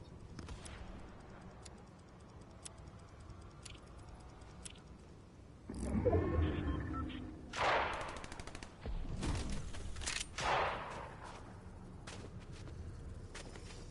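Gunfire in the Fortnite video game crackles in several separate bursts of rapid shots, moderately loud against quieter background game sound.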